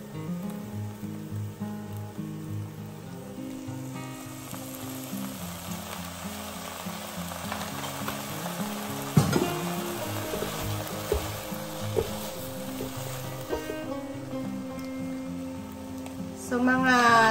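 Tofu frying in a hot pan as soy sauce goes in for tofu adobo, a steady sizzle under background music, with a sharper burst of sizzling around the middle and again near the end.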